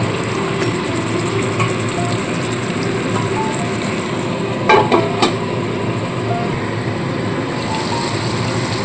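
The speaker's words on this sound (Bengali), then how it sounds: "এইবার কম আঁচে ঢাকা চাপা দিয়ে আমি চিকেনটাকে কষিয়ে নেব" Chicken cooks on low heat under a lid in a pan, giving a steady soft sizzling hiss with a few small clinks midway; close and even, no talking.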